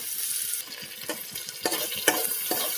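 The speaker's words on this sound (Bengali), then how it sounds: "একটু ভালো করে ভেজে নেব মুগ ডালটা" Washed moong dal fries in ghee in a pan, with a continuous close sizzle and quick scraping stirs and spatula knocks across a short stretch.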